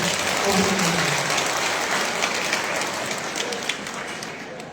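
A crowd at a political rally in Feni claps in a thick, steady roar of applause that lasts throughout, slowly easing in loudness, with voices faintly mixed in.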